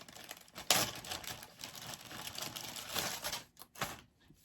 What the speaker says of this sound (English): And then I am going to cut some elastic.